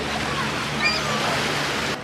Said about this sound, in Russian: сделали нам здесь волны зато